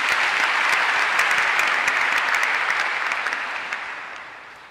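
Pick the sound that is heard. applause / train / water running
applause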